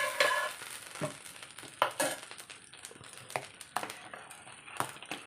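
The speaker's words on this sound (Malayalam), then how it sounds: "നമുക്ക് ഇനി കഞ്ഞിയിലേക്ക് ചേർത്ത് കൊടുക്കാം. നന്നായിട്ടൊന്ന് മിക്സ് ചെയ്ത് കൊടുക്കാം." Drumstick leaves sautéed in ghee being stirred into mango seed kanji: soft, close stirring strokes with occasional clinks of a spoon against the pot over a faint sizzle, with no talking.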